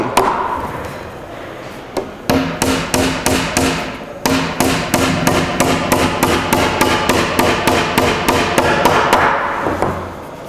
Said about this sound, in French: ce qu'on fait, on vient lui planter un clou ici pour l'empêcher de sortir